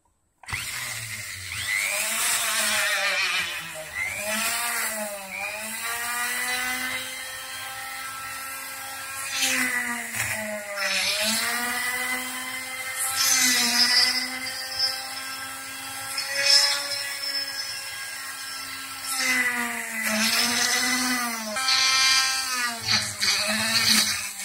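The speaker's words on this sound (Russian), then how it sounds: "Беру 3-миллиметровое сверло. Обязательно очки. Я на руках сверлю." A handheld electric drill with a 3 mm bit bores holes in a knife handle, its high whining motor rising and falling in pitch as it bites and eases off, close and continuous for over twenty seconds, with no talk.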